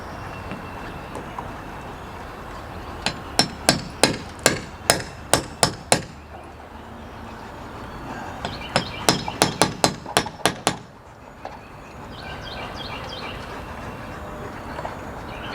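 Two quick series of sharp metallic taps as a part is hammered in with the back end of a quarter-drive socket during Aliner camper maintenance, each series about eight strikes, close, over faint outdoor background.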